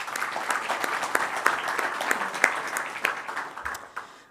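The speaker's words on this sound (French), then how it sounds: "J'aimerais vous les applaudir" An audience at an iftar gathering for a student association breaks into applause, a lively spread of clapping hands with distinct sharp claps standing out, tapering off at the end.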